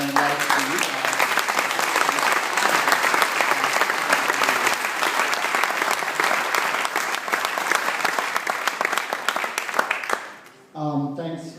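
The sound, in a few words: applause at yacht club awards night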